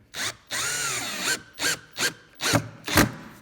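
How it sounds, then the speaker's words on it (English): A power drill drives screws into a wooden skate ledge, with one long whirring run followed by five short, sharp bursts, loud and close, and no talking. "we're going to get those screws in the hole"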